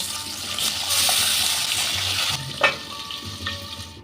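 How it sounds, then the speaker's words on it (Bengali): Whole live fish fry in hot oil in a home kitchen, a steady loud sizzle and hiss with occasional spatters and a brief clatter of utensils. "এইভাবে সব মাছগুলো আমি ভেজে নেব।"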